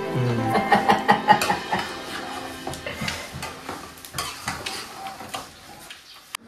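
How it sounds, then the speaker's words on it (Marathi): A spoon scrapes and knocks against a pot of cooking jackfruit vegetable in rhythmic strokes, metallic clinks and soft bubbling, close and fairly loud. "फणसाची भाजी शिजवतोय।"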